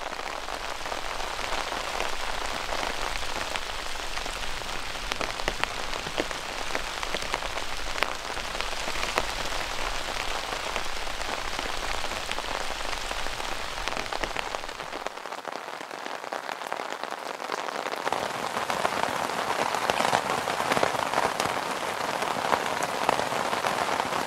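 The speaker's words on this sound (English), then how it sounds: "it has been pouring the rain for a good number of hours now" Heavy rain pours steadily onto a cheap Bessport tent at night during a waterproof test, a dense continuous hiss of drops drumming the fabric up close for the whole stretch, briefly easing and then swelling slightly louder.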